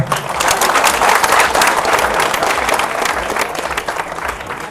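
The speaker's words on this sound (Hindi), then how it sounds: "एक बार आप सबके लिए जोरदार तालियां" Dense, loud applause from a crowd at a political rally in Jainpur, sustained clapping that holds steady and then eases slightly toward the end.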